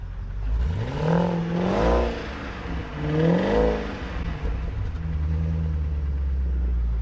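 A BMW Alpina B7 with a supercharged engine, suspected of a supercharger fault and smoking from one side, revs up twice in rising, rumbling swells before settling back to a steady, loud idle close by.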